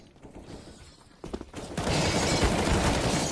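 Counter-Strike gunfire erupts in a rapid burst of loud shots, after which a dense, continuous barrage of firing and clatter fills the rest.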